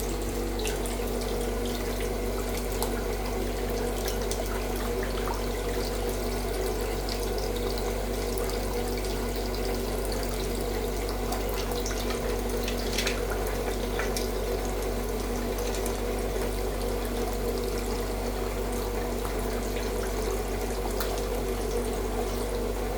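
A household tap runs steadily while someone waits for the water to turn hot, a continuous close hiss and splash of water into a sink with no pauses.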